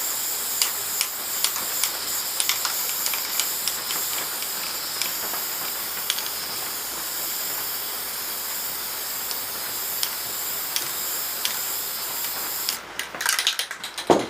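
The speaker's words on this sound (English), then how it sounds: "I'll give the top a little spray paint coat." Spray paint can giving a high-vis coat to the top of a wooden stake, a continuous close hiss lasting over twelve seconds with small bursts, ending in a few short rattles.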